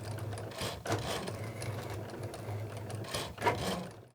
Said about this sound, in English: load it into my machine, and cut it out.